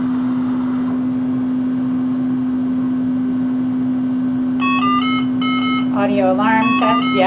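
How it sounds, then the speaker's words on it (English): A mechanical ventilator runs an alarm test: a steady electronic hum plays alone at first, then loud bursts of repeating high beeps begin partway through, ending in a quick run of stepped, rising alarm tones. "alarm test, yes, we hear it, it's good"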